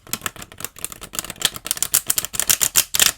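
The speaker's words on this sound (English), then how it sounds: "I'm going to do one more shuffle because that one was a little messy." Rapid crisp flutters of cards being shuffled, several quick riffling bursts close by, growing denser toward the end.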